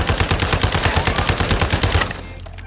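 Rapid automatic weapon fire in the video game Call of Duty Warzone, a fast loud burst of evenly spaced shots lasting about two seconds before cutting to quiet.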